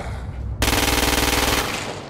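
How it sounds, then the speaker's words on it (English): Rapid assault rifle fire from the video game Crackdown 2, a loud sustained automatic burst that starts abruptly after a brief quiet lead-in and runs steadily for about a second and a half. "The ordnance you now hold is a standard issue agency assault rifle. Use it to kill the freak"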